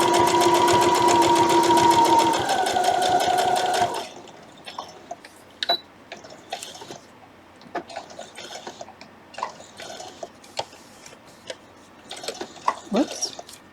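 Sewing machine stitching a zigzag stitch on vintage quilt blocks, a loud steady rapid whir for about four seconds, then stopping, followed by faint clicks and handling noises.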